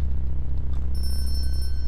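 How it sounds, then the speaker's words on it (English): A bell rings in the stealth video game Thief Gold, its bright, sustained tones starting about halfway through and ringing steadily over a constant low game hum. "I'm gonna cut to when the bell rings"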